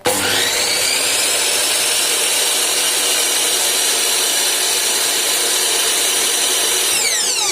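A WIPRO 10-inch slide miter saw spinning at no-load speed gives off a loud, steady high-pitched motor whine with no cutting, holding constant before starting to wind down at the very end.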